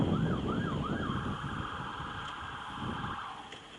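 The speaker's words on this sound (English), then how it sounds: "So many sirens today, it's kind of unnerving." Emergency sirens wail through heavy downtown traffic rumble, rising and falling several times before settling into a steady high tone that fades near the end.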